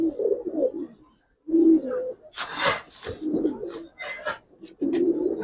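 Female China Khaki pigeons coo in repeated low, rolling phrases close by, broken by a burst of wing flapping and short pauses, with no talking.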